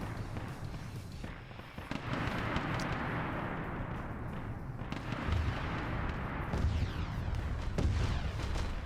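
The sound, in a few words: plasma cannons firing in every direction in a video game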